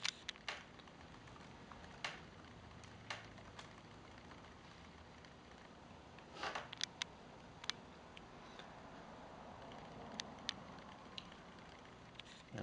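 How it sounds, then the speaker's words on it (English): A computer keyboard is tapped at a quiet, uneven pace while a password is entered. Sparse faint key clicks sit over soft background hiss. "I'm going to type in my password."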